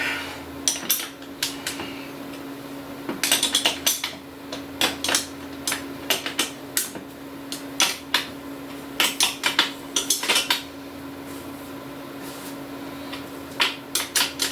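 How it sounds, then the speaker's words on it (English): Irregular metallic clanks, taps and clicks ring out in clusters as a seat is fitted onto a Goliath mini bike frame, close and fairly loud with no talking. "we're going to throw a seat on here, see how she sits"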